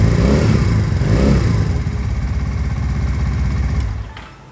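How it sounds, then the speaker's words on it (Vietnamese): A motorcycle engine running at a dealership, a steady close rumble with a couple of throttle swells early on, dropping off near the end. "máy nổ nghe cực kỳ hay luôn anh em"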